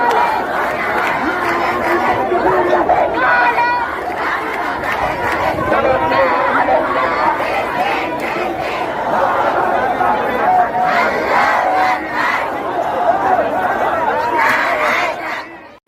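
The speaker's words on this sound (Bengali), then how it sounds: "নারী পুরুষ অনেক ধরনের মানুষ এইখানে আইসা স্লোগান দিতে আছে বিভিন্ন ধরনের" A large street rally crowd of men and women, some waving flags, shouts and chants in a dense, loud wall of many voices that barely lets up.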